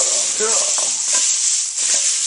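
Stir-fry sizzling in a cooking video game, a steady bright hiss sustained throughout with light stirring clatter mixed in, close and loud with no talk.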